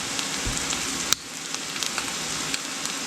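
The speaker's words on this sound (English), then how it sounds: "We're just going to fry it up real quick there." Veggie egg roll filling topped with a little teriyaki fries in a pan, giving a close, steady sizzle with scattered small pops and crackles and one sharp click partway through.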